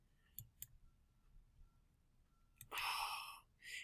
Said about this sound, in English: And then I'm going to click this button.